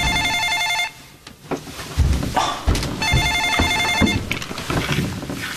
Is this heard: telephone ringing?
yes